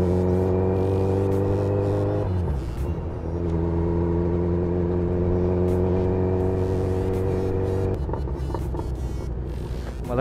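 A Kawasaki Z900 motorcycle cruises on a highway with a loud, steady, tonal engine drone, the pitch dropping as it shifts around two seconds in and again near eight seconds, under constant wind rush.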